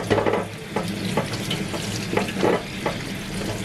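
Fuzzy melon rinsed under a running kitchen tap, a steady stream of water with irregular splashes and handling clunks as the gourd is turned over in the sink, close and alone.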